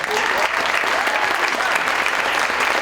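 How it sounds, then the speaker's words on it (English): A keynote audience at a mental health conference at Ames High applauds steadily, with dense, even clapping that fills the space evenly from start to finish. "So give Jean a round of applause"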